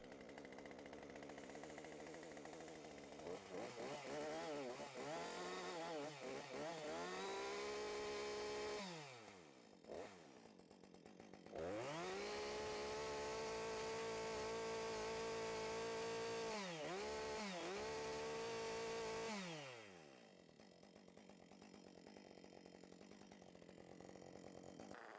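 Chainsaw with a possible crooked-cutting fault making its first cut, the engine revving high and bogging under load, pausing near the middle, then a second long sustained cut before dropping back to idle.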